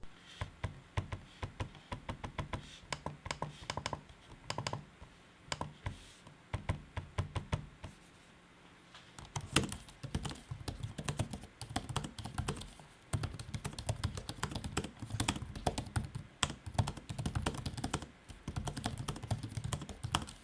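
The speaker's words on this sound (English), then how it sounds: "Here is an audio sample for you to hear the trackpad and keyboard while in use." Typing on an MSI Modern 15 laptop keyboard with trackpad clicks, close and fairly quiet, a steady run of rapid clacking keystrokes broken by a short pause and occasional sharper taps.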